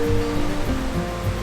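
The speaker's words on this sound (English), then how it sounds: "it just follows alongside the river, so it's really pleasant just having the sound of running water alongside it" A river beside a hiking trail in Slovakia's High Tatra Mountains rushes in a steady, loud, dense wash of running water, close by and unbroken.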